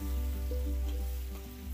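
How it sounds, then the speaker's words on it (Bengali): Vegetables sizzle steadily in a pan over a wood-fired clay stove, a close, even frying hiss with faint stirring scrapes and a low background tone. "কাঠের উনুন তো খুব তাড়াতাড়ি ভাজা হয়ে যায়"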